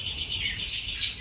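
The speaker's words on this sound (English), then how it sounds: "Spring robins are out." Spring robins singing outdoors: a continuous stream of high, bright chirps and warbles from several birds, moderately loud and steady over low background rumble, with no talking.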